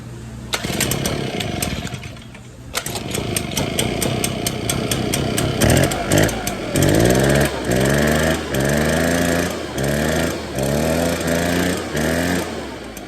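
An Echo PB 580T backpack leaf blower, freshly fitted with a new carburetor, is choked and pulled, then its small two-stroke engine fires and runs with a loud, revving drone that swells and dips in rhythmic surges, close by.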